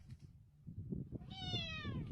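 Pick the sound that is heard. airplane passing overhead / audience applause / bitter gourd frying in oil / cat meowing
cat meowing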